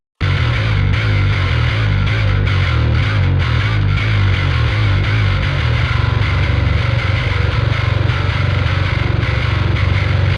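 A distorted electric bass plays a continuous, heavy line of low notes with a gritty effected tone, loud and unbroken for the whole stretch.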